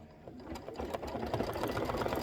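An embroidery sewing machine stitching a Kimberbell design runs alone in a steady, fast mechanical chatter, its rhythmic needle beat starting softly and settling into an even, close hum.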